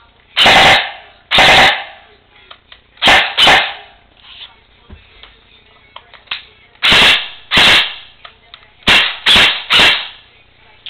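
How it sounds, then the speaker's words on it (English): An airsoft gun fitted with a homemade silencer fires several short, sharp bursts in full-auto mode, loud and close, separated by quiet gaps, with faint movement noise between volleys. "And a little fully automatic burst, baby."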